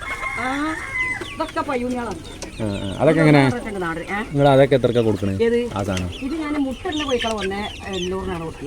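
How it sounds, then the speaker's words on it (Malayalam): Hens cluck and squawk nearby on a poultry farm, busy and overlapping, while people talk over them throughout. "അത്യാവശ്യം കോഴിക്കളുണ്ട് അല്ലേ"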